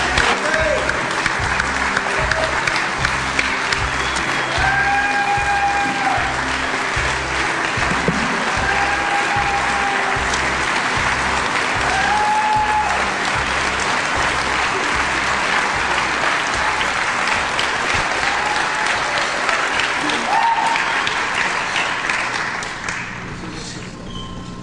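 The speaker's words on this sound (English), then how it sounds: "Everybody, please give a huge round of applause for my good friend David Miller." Sustained audience applause at an event honoring a 9/11 first responder, dense steady clapping filling the room for over twenty seconds before tapering off at the end.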